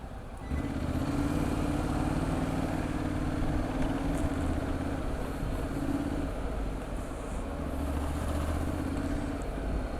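Steady engine drone of a motorcycle moving through heavy Istanbul traffic, with a constant low rumble and the wash of surrounding vehicles throughout.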